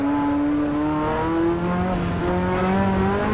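A Ferrari F40 on the Transfagarasan mountain highway, its engine pulling hard under acceleration with a loud, rising harmonic roar heard from close inside the car, and no talk over it.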